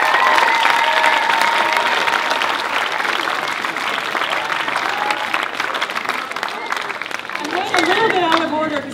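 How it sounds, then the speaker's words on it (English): Sustained audience applause at a school choral pops concert, mixed with crowd noise and cheering, with some voices heard over it near the end. "kids, I think you need to give a round of applause and thanks to those people for feeding you."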